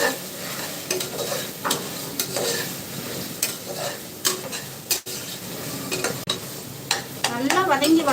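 Ingredients for a mutton curry (kuzhambu) sauté in a pan, a steady sizzle broken by repeated scraping strokes of a spoon stirring and knocking against the metal, close up and fairly loud, with no voices.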